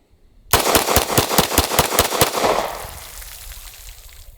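Rapid fire from a 10mm 1911 pistol, about a dozen sharp, loud shots in quick succession, followed by a ringing echo that fades out.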